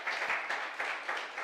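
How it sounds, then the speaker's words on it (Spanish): A church congregation claps together in a short burst of applause, moderately loud with rhythmic pulses, and no talking over it. "Dele las palmas al Señor"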